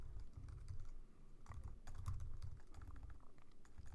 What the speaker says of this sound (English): I'm going to type in the value